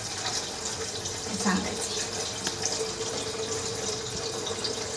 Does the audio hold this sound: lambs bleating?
no